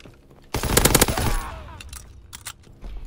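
Rapid burst of STG44 assault rifle fire in a video game, a loud cluster of sharp close shots lasting about a second, then fading reverberant tail and a few scattered softer sounds.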